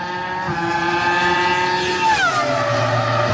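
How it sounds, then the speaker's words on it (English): A Formula One race car with 850 horsepower roars past at over 200 miles an hour, its loud engine whine dropping sharply in pitch as it sweeps by close up. "The cars have 850 horsepower. They drive over 200 miles an hour."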